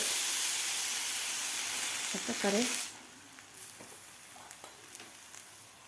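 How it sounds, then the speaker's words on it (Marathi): Loud, hissing sizzle of sprouted moong thalipeeth dough on a hot iron griddle that suddenly drops to a quieter crackle, with a brief spoken phrase midway. "आता थापून घेतलेलं थालीपीठ आपल्याला यावर घालून घ्यायचं आहे तव्यावर"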